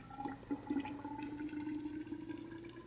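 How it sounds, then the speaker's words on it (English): Oil being poured into a fork leg of a 1978 Yamaha DT175 motorcycle, a steady liquid trickle with a gurgling tone that runs continuously and fairly close, with no talking. "I'm going to go ahead and pour this oil in here"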